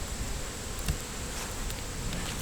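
Honey bees hum in a weakened hive with a failing queen, a soft, steady buzz at close range with faint rustling, no voices.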